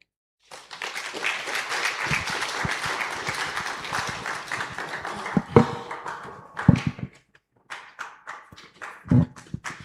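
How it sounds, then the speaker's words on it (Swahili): An audience applauds a speaker at a public talk. The claps swell into steady, dense clapping, then thin out into scattered claps with a few loud single claps and thuds. Brief pauses fall between the bursts. "Mnaruhusiwa kumpigia makofi wale mnaokubaliana naye"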